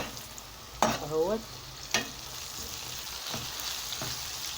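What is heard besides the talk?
onions frying in hot oil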